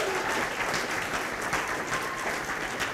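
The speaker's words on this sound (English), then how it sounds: "Let's give Liz a big round of applause." An audience at a startup pitch night applauds, a dense, steady round of clapping that fills the whole stretch without pause.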